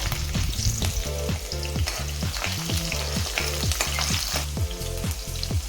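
Loud, continuous sizzling of whole garam masala (black cardamom, cinnamon, cloves) with ginger, green chillies and garlic frying in oil in a kadai, with repeated rhythmic stirring clanks throughout.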